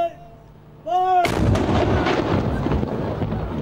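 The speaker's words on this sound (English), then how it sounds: "Every day at noon, the cannon roars." The noon day cannon at Castle Cornet, a 13th-century fortress on Guernsey, fires one booming shot that rolls on as a long echoing rumble, preceded by a faint tonal sound.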